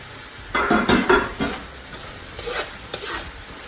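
Ingredients for Nigerian fried rice sizzle in a pan while being stirred, with several loud scraping, clattering stir strokes in bursts at close range, then quieter stirring, and no talk.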